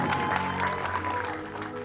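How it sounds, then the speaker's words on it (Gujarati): An audience at a film premiere claps in a dense, steady burst of applause, close and fairly loud, continuing throughout the short stretch. "માટે વધારે તાળીઓ આપો."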